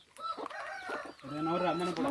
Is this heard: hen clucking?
yes